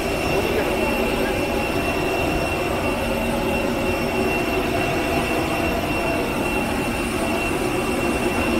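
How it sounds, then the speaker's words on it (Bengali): Air India Express jet engine roaring steadily at an airport, a loud, unbroken broadband rumble and whine with a sustained high tone, continuous for the whole stretch without change. "ইঞ্জিনের প্রচণ্ড আওয়াজ।"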